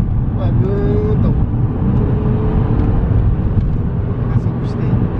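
A Subaru Legacy B4 3.0R sedan accelerates, a loud, continuous engine roar with a faint rising whine that holds steady and close throughout.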